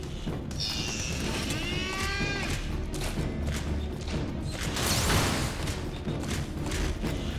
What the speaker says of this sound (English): The cow sounds.